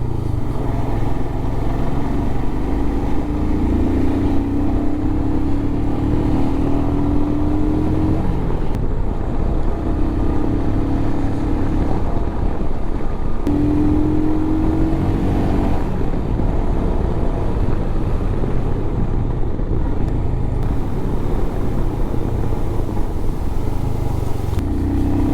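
Car climbing the Alpe d'Huez hairpin road among cyclists and traffic, a loud continuous engine drone heard from inside with rising gear-change whines and constant wind rumble, no talk.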